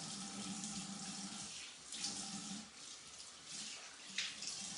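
Tap water runs steadily into a bathroom sink while a face is washed, a continuous hiss of flow with brief splashy surges as hands dip under the stream.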